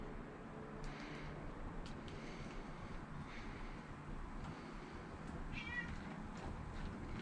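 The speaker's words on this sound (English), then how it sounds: "I hear a cat meowing out here." A stray cat meows faintly a few times in the distance over steady outdoor background noise.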